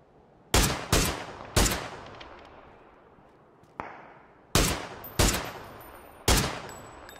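Seven sharp, isolated gunshots in the game PUBG crack out in an irregular rhythm, each with a short fading tail, over quiet background with almost no talking.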